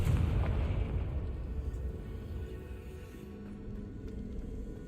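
A Confringo blasting spell exploding in the Hogwarts Legacy game: a loud, deep boom at the start that fades into a rumbling, crackling tail over several seconds, heard alone without talk.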